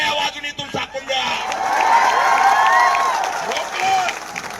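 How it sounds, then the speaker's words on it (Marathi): A crowd at an outdoor student protest rally claps and cheers loudly, with whoops and shouting voices mixed into the steady applause. "जोरात टाळ्या वाजून इथून झाकून द्या."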